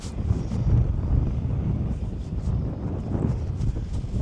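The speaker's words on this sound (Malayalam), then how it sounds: "നല്ല കടലിലെ നല്ല കാറ്റ്" Sea wind buffets the microphone on a coastal road with sea on both sides, a low rumbling gusty rush that swells and eases continuously, no speech.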